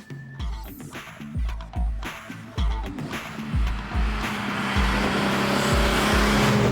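A restored 33-year-old Triumph TR5 sports car drives hard, its engine note rising and falling in repeated gear changes, then settling into a loud, steady drone with faint tyre noise.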